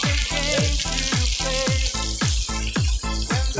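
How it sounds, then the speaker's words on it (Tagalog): Chopped tomatoes hit a pan of frying onions in a Filipino home kitchen, producing a loud, continuous close-up sizzle with a steady, rhythmic pulsing running through it. "Ilagay na natin yung ating kamatis."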